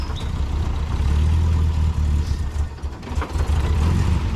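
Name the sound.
car engine running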